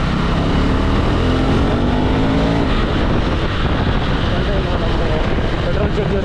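Road traffic and wind rush steadily around a KTM Adventure 390 motorcycle on the move, a loud continuous roar with engine drone throughout, while a rider talks over it.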